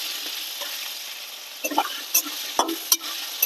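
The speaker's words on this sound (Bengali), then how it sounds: "আলুকে লাল লাল করে ভেজে নেব।" Cut potatoes fry in hot oil in a pan. A steady close sizzle runs throughout, with a few sharp scraping clicks of stirring near the end.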